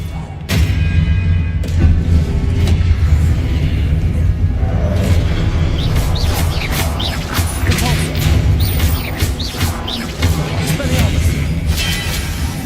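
Spell effects crackle and boom during combat in modded Hogwarts Legacy, a dense, continuous wash of magical impacts, thuds and whooshes over a low rumbling score, with several sharp bursts piling up in quick succession throughout.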